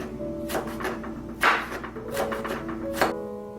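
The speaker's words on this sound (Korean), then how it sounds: "어슷 썰은 오이는 이렇게 얇게 채 썰어주세요" A knife slices cucumber into thin strips on a cutting board for chilled cucumber soup, giving a few crisp, separate chops in an irregular rhythm, close and clear.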